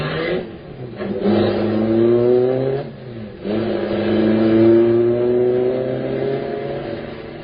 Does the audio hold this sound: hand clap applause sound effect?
no